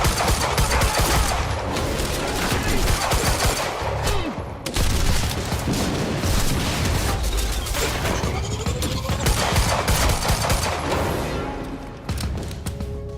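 Rapid gunfire in the video game Quantum Break, with dense, continuous bursts and booming impacts layered over a loud, busy combat scene for the whole stretch.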